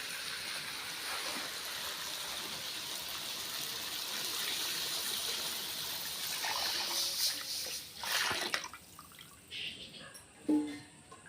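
Tamarind water mixed with curry powder is poured steadily into a pot of egg curry with a continuous trickling gush, followed by a few soft knocks and splashes as it ends.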